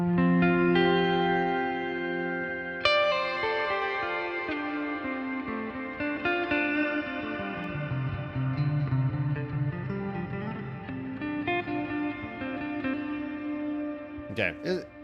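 Electric guitar chords ring through Headrush shimmer and 11 verb reverb effects, with sustained notes blooming into a long, washed-out tail, loud and close, and a new strum cutting in partway through.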